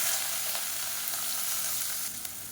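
A handful of onion hits hot oil with fennel seeds and dried red chilies, giving a loud, dense, steady sizzle that eases slightly near the end, with a couple of faint clicks and no voices.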